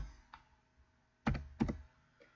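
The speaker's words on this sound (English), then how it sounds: "you're going to type all those in" A few keystrokes on a computer keyboard while entering search keywords: one soft tap, then two louder, distinct clacks about a third of a second apart, close and alone over a quiet room.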